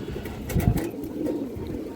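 Pigeons of a high-flying fancy breed cooing nearby, soft low throaty coos in a short cluster, loudest around the middle, over a faint background murmur.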